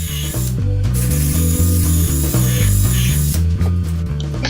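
A power drill with a fine bit bores into wood for a bed frame, giving a loud, steady whine with a stepped, slightly wavering pitch throughout.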